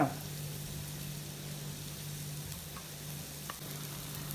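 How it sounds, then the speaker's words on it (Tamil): Chillies stirred in hot oil on low heat make a steady, soft sizzle over a low hum, with occasional faint scrapes and ticks from stirring. "இந்த மாதிரி ஒரு 1 மினிட் கிண்டுவோம், அந்த மிளகா வடை போகிற வரைக்கும்."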